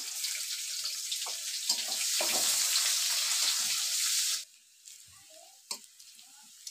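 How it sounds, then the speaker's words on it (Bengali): Onions fry in hot oil with whole cumin in a wok, sizzling loudly and steadily for about four seconds before the hiss drops sharply, followed by quieter sputters and a few light clinks. "পেঁয়াজ ভালোভাবে ভাজা হয়েছে।"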